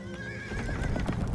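A horse whinnies with a rising, wavering cry over the rhythmic clip-clop of hooves, fairly close and steady throughout the short stretch.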